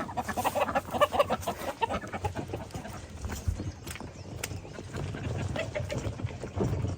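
Chickens cluck and chatter nearby in a busy flock, with scratchy movement and rustling underneath throughout.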